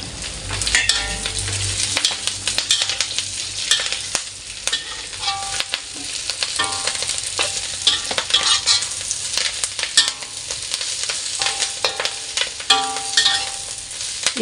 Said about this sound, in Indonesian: Kalau udah berubah warna, baru kita masukkan sawi putih.